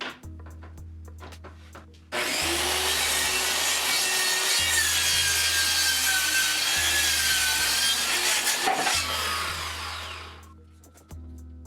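Handsaw or power saw cutting through a wooden workstation panel to length, a steady loud rasping cut running about eight seconds before fading out, with faint knocks before and after.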